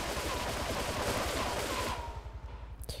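Rapid gunfire in the video game Grand Theft Auto III rattles out as a dense, loud stream of shots that breaks into sparser bursts and stops near the end.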